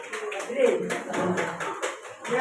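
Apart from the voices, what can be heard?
audience applause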